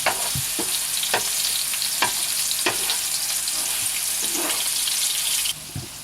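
Burgers made with celery, peppers and onion fry in a pan over lowered heat, giving a steady close sizzle broken by regular sharp taps and scrapes of stirring, with no talking.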